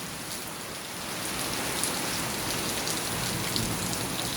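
Steady heavy rain pouring down, a dense continuous hiss of water with no voices, growing slightly louder after the first second.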